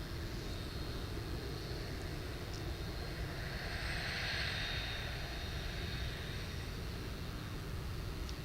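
An MD-11 trijet airliner at DFW Airport rumbles from a distance, a faint, steady low roar with a broad whoosh that swells slightly near the middle and then eases.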